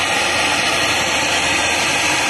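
A torch heats an exhaust manifold bolt on a Ford 6.7 Power Stroke diesel engine, making a steady, loud, close roaring hiss that holds unbroken for a couple of seconds.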